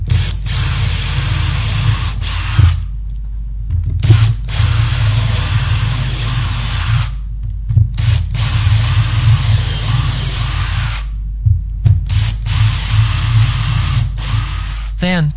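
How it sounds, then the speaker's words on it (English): An electric drill fitted with a 3mm bit bores holes through two stacked wooden boards, running loud and close in several long bursts separated by short pauses. "Using a 3mm drill bit, drill the three holes down either side, all the way through both boards."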